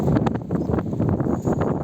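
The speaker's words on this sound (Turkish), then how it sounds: "Çok rüzgar var." Strong wind outdoors buffeting the microphone in uneven gusts and rumbles, loud and close, with rustling noise layered throughout.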